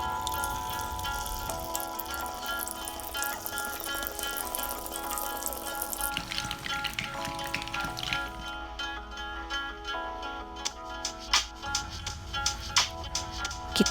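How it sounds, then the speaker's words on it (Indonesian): Molded snack dough frying in hot oil, a steady close sizzle and bubbling that runs throughout, with occasional light clatters near the end and no voices. "Lanjutkan dengan menggoreng semua adonan yang telah dicetak"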